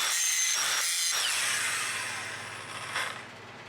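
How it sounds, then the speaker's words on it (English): A bolt head is cut down to square it off with a power tool, producing a close, harsh high whine that rises, fades, then briefly swells again, with two short pauses near the start. "we'll just cut this bolt down and try to make it square"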